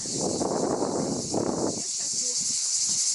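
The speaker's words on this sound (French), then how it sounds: "vous allez entendre les cigales" A constant high, shrill buzz of cicadas in Hyères, southern France, fills the background, while louder rustling and shuffling noises come and go in the foreground.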